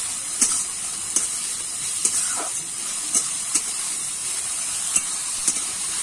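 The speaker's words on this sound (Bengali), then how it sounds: "চিংড়ি মাছটা কিন্তু খুব ভালো করে ভেজে নেব পেঁয়াজ রসুনের সঙ্গে" Prawns rubbed with salt and turmeric fry hard in a pan with onion and garlic: a steady, close sizzle with a few sharp clicks and scrapes from stirring, and no voices.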